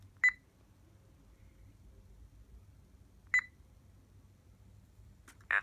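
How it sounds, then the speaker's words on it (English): A BrailleNote Apex gives short electronic progress beeps during installation, spaced a few seconds apart, clear and close over a faint low hum, with a slightly longer tone at the end. "And it's giving us progress beeps."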